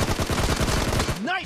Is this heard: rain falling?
no